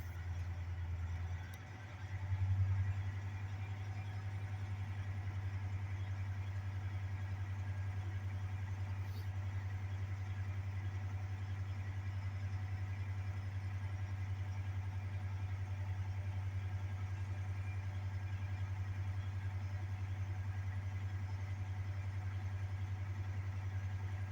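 A 2021 truck's diesel engine idling in the cab to build up air brake pressure: a steady, low, even drone that runs without a break, with a brief swell near the start.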